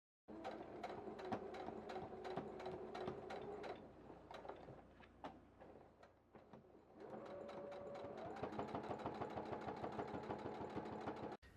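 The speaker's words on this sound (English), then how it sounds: "I'm going to sew it twice more on each side." A sewing machine runs in two long bursts while stitching a thick reflector bag strap, its motor whirring steadily with rapid needle clatter and a short slower stretch in between.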